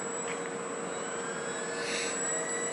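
A model airplane taxiing on the ground with an onboard FPV camera: a steady, moderate engine whine holds throughout, swelling slightly near the end, with no talk.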